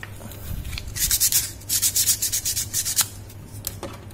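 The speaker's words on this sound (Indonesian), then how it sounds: "Terus kita amplas sedikit ya, biar rata." Sandpaper rubs back and forth over a 1970 Toyota HiAce car body in quick, rhythmic strokes, about a dozen in a row, close and fairly loud.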